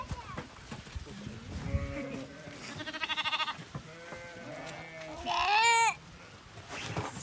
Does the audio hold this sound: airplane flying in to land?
no